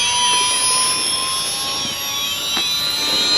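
A Losi Promoto RC dirt bike motor gives off a steady, loud, high-pitched whine that sounds like a small jet. It is close by and heard alone.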